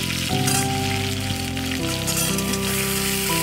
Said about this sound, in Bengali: আলুটা একটু বেশ লাল লাল করে প্রথমে ভেজে নেব